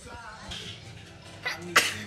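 One sharp sneeze bursts out near the end, loud and close, after a quieter stretch of soft indoor background noise.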